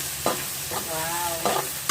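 Chopped onion pieces frying in a pan for Chinese-style chicken rice: a close, continuous hiss of sizzling oil broken by several sharp spatula scrapes as the onion is stirred.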